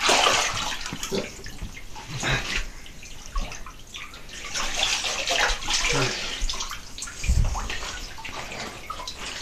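Water sloshing and splashing as a person climbs out of an ice bath, with irregular surges and drips through the whole stretch, close by.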